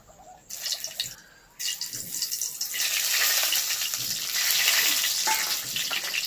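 Whole spices (black pepper, green cardamom, cinnamon, star anise and mace) sizzle in hot oil with a soft, steady hiss. The sound swells after a brief quieter start, with occasional small pops and crackles.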